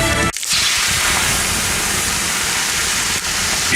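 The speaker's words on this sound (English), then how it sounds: "The sound of water being poured on 800-degree rocks." Water is poured onto 800-degree sauna rocks, producing a loud, steady roaring hiss of steam that fills the whole stretch after a brief break at the start.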